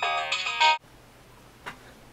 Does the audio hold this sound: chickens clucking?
no